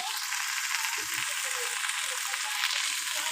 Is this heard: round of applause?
no